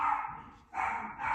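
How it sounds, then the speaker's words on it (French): An indoor dog barks and whines in two sustained, loud bursts with a short pause between, reacting to a doorbell ringing at the front door. "Il y a mon chien aussi qui fait vous là en bas."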